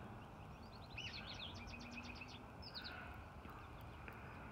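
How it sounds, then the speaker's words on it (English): Bird calls and chirps, quick trilled phrases and a few separate notes, moderately faint over a steady low background rumble. "And listen to those birds confirming all of that for you."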